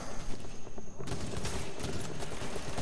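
Rapid gunfire bursts from The Division, a dense run of overlapping shots that sharpens and intensifies about a second in, loud and continuous with scattered impacts and movement beneath.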